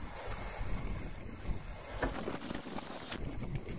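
Steady outdoor wind buffeting the microphone, a constant broadband rush with gusty swells, no voices present.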